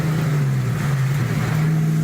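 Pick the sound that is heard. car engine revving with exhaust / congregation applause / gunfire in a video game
car engine revving with exhaust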